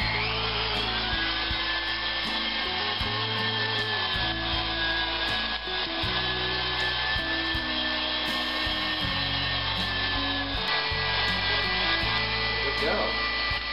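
A mixer's meat grinder attachment grinds meat for Texas red chili, giving off a steady motor drone with shifting low tones as the load changes, close and continuous, with some talk under it.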